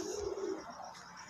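Pigeons coo in a low, steady burst for about half a second, followed by softer background bird sounds.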